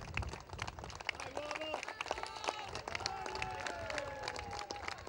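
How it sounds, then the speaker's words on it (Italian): Applause and clapping from a racecourse crowd at a horse race, steady and moderately loud, with scattered cheering and a voice speaking over it, the biggest applause going to the jockey. "l'applauso più grande è sempre al Fantino"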